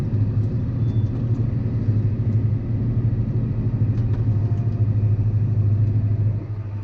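A tractor pulls a precision seeder sowing onions at about 4 km/h, making a steady, loud, low engine rumble that holds evenly throughout with no talk.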